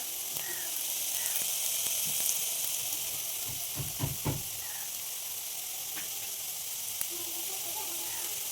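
Food frying in a pan makes a steady bright hiss throughout, with a short cluster of low stirring knocks and scrapes near the middle, heard close and fairly quiet.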